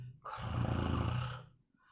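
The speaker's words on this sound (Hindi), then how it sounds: "पहले इस मोटू के बच्चे के खर्राटे बंद करूं, वरना मेरा सिर और भारी हो जाएगा" A heavy-set person snores while asleep in a Hindi comic-book animation, one long rasping nasal snore of about a second that swells and fades, with no speech.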